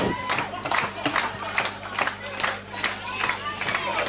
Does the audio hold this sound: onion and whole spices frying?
no